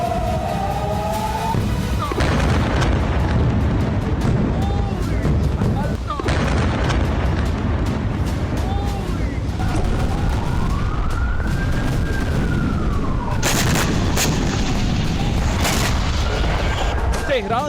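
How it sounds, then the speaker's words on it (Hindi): News footage of Iranian missile strikes on Tel Aviv: continuous rumbling blasts and booms with rising and falling sirens, under loud, dense background noise and intermittent speech. "तेहरान से उड़ी मिसाइलें और सिर्फ 7 मिनट में तेल अवीव की छाती पर बरसी।"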